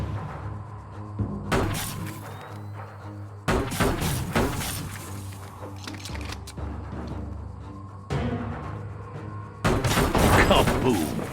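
Gunshots crack in bursts in the video game Biomutant, ending in a loud explosion, with several sudden broadband blasts over background music and ambience.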